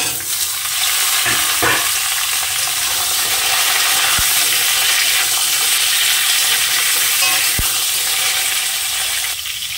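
Potatoes frying in oil as raw plantain and green chilies go into the pan for a plantain curry, giving a steady, close sizzling hiss with a couple of brief clicks from stirring.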